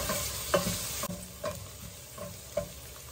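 Garlic cooked briefly in a pan for Filipino kare-kare, a quiet bed of sizzle broken by several sharp scrapes and knocks of a spatula stirring at irregular intervals, no one speaking.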